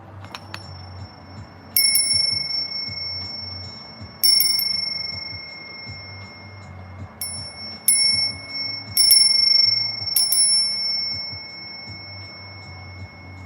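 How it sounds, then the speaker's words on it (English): A small Ganesha bell rings in several separate clear, high strikes, each sustaining a bright pure tone that rings on, spaced a few seconds apart over a low steady hum. "I'm going to ring the bell."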